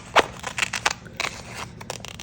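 Scissors snip through a partially painted canvas piece in a quick run of short, crisp cuts with faint crackling, close and fairly quiet, no voices.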